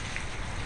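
Rain falling steadily during a wet, flooding day, heard as a faint, even hiss of drops with no voices.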